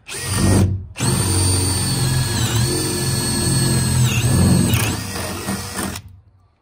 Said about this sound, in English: we are going to take our 1/2-inch drill again and finish drilling the hole all the way through to the other side